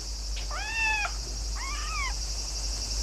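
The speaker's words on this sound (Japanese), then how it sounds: "あれ、猫がいますよ。" A cat meows twice, each cry a clear drawn-out call about half a second long, heard outdoors near a pond against a steady hiss and low hum, with no talking.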